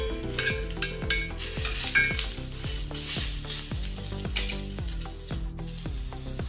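Onions with coconut, cardamom and garlic frying in a pan as tomatoes go in, giving a steady close sizzle broken by repeated rhythmic clinks and scrapes of a spoon stirring against the metal pan.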